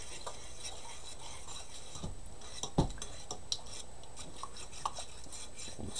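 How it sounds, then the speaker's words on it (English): Sausage gravy is whisked and stirred in a pan, with soft scraping and occasional light metallic clinks against the pan bottom, close and quiet over a low background hiss. "we're getting the bottom of the pan, bringing that and literally kind of whisking and stirring the gravy"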